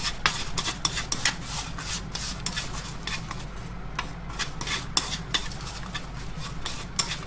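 Sausages frying in an oiled pan are stirred with quick, rhythmic scraping strokes against the metal, the clatter of the utensil sitting over a constant low sizzle.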